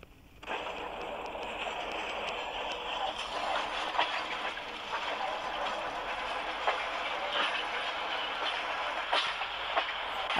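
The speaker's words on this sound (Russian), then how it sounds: "Звук от моего ЧС-4Т." A ChS4T electric locomotive runs with a loud, steady rolling roar and continuous hum, broken by scattered clicks and rattles.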